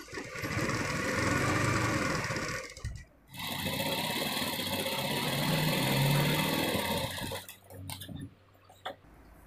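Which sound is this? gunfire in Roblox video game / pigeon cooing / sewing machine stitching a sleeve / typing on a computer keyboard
sewing machine stitching a sleeve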